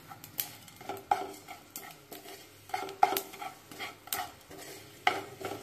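Whole coriander and cumin seeds dry-roasting in a pan, stirred with a spoon: soft rustling scrapes and light metallic clicks in an irregular rhythm, close and fairly quiet, with a faint sizzle beneath.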